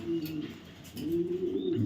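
A male silver-light Afshan grizzle pigeon coos twice, low and throaty, each soft rolling call close by with a short pause between them.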